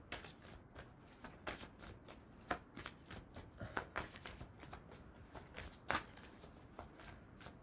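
A deck of oracle cards being shuffled by hand, a quick run of riffling, slapping card sounds with sharper snaps throughout, close and quiet.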